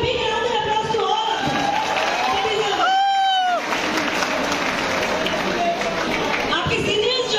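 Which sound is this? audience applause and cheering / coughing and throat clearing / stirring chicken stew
audience applause and cheering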